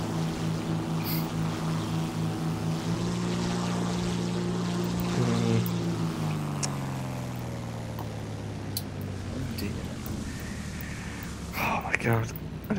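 Propeller biplane engines drone steadily in War Thunder, a close, sustained buzzing hum whose pitch shifts and dips partway through.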